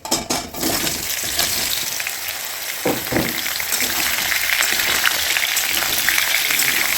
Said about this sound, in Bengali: এরপর দিয়ে দেবো এর মধ্যে কেটে রাখা আমগুলো